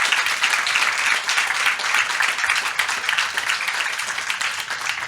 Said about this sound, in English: now we will deliver another applause of thank you to Helen